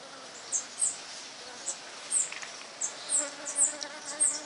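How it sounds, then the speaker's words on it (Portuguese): Africanized honey bees in a Brazilian city buzzing in short passes, individual insects swelling close then fading every second or so over a quiet background. "Essas abelhas são abelhas africanizadas que se adaptaram aqui no Brasil e se espalharam por todos os estados brasileiros."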